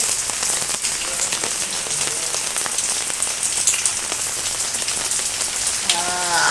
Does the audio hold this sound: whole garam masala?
no